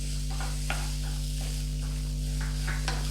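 Grated coconut frying in a pan, a soft continuous sizzle with intermittent scraping stirs recurring every half second or so, close and fairly quiet over a steady low hum.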